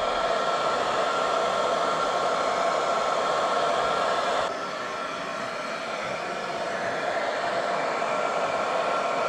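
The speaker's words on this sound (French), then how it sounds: "pour enlever les dernières bulles et sécher l'eau au sèche-cheveux" Hair dryer blowing water off a customised Slicy Invisiframe mountain bike mudguard, giving a loud, continuous rushing whir that shifts to a slightly lower, softer setting partway through.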